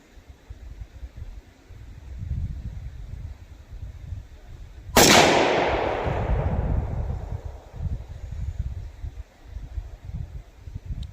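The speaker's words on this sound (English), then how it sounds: "here's our first shot out of the ATI 300 blackout" One loud, sharp gunshot from an ATI MultiSport rifle in 300 Blackout cracks out of the open air, its echo fading over a few seconds against a low background rumble.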